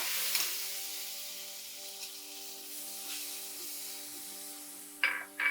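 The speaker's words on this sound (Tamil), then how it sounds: "வெங்காயம் வதங்கிக்கிட்டு இருக்கேன்" Small onions sautéing with chana dal in a pot for tomato bath, a soft, steady sizzle with a low electrical hum beneath and a couple of brief louder stirring scrapes near the end.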